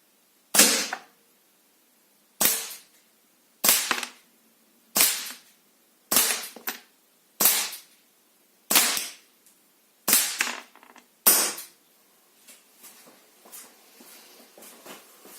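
Single sharp shots from an Umarex 92FS air pistol fired in double action at 7 metres crack out close and loud, about nine evenly spaced shots with quiet pauses between them, then faint handling sounds.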